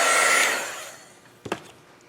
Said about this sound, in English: So now I'm going to just dry this a little bit because the Oxide inks stay wet for quite some time